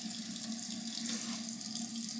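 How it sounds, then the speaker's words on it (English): Warm water runs steadily from a bathroom tap into a sink for shaving prep, a continuous close splashing hiss with no pauses or talk. "Let's get some warm water on the face."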